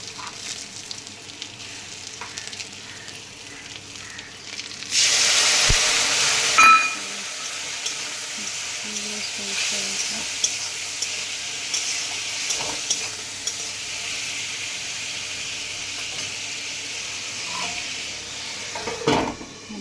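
Mango with chili, cumin, mustard seeds, turmeric and salt sautés in a pan, a steady sizzle that swells into a loud hissing burst, then settles under repeated scraping stirs, with no talk.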